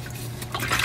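Running water rinses a bowl at a kitchen sink, making a soft, steady splash and trickle with a brief swell toward the end, heard fairly quietly without talk.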